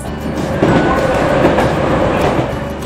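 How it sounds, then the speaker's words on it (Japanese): A Hankyu Kyoto Line train pulling into Awaji station, where elevated-track construction is underway, gives a loud steady rumble with wheel clatter and rail noise throughout, heard close up from on board. "淡路駅に到着します。"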